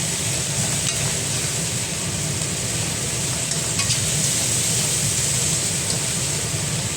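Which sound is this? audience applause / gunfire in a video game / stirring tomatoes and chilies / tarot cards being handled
stirring tomatoes and chilies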